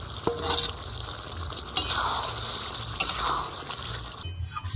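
Mutton fat and meat frying together for kosha give a close, steady sizzle, with a few sharp clacks of a spatula on the pan and stirring scrapes, and no talking.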